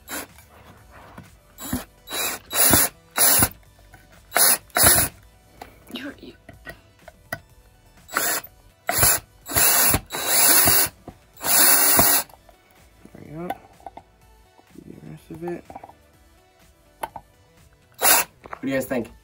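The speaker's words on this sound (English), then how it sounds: "so now I'm just going to screw in the rest." Power drill driving screws into a floating shelf, loud bursts of whirring in several short runs of a second or two each, separated by gaps where a person talks.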